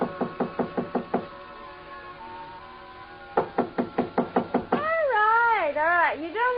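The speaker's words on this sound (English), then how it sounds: "So I tried knocking." Knuckles rap on a hotel suite door in a 1957 radio drama, with two quick bursts of about seven sharp knocks each separated by a pause. A voice then speaks close by.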